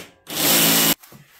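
A jigsaw cuts a wooden circle for a lamp base in one loud, steady burst of about 0.7 seconds, followed by a faint clatter as it stops.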